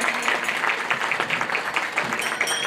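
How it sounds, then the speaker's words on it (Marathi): A seated group claps loudly and steadily, many hands striking in a rapid, even rhythm that stays close and continuous throughout. "टाळीचा आवाज जोरात येतोय"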